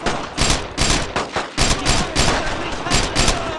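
Gunfire in the World War II video game Brothers in Arms: Road to Hill 30 during a beach assault, dense loud bursts of rifle and machine-gun fire in rapid repeated volleys with battle noise throughout.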